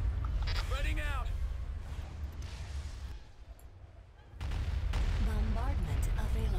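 Artillery bombardment in a battle video game: heavy, rumbling explosions boom close and loud, ease off briefly in the middle, then build back up, while radio-style voices speak over the barrage.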